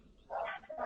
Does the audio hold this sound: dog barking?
yes